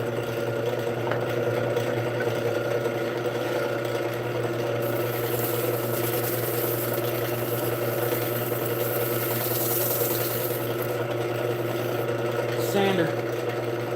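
A power sander hums continuously during woodturning in a workshop, a steady droning whir held at an even level, with a brief rise in hiss midway and a short clattering knock near the end.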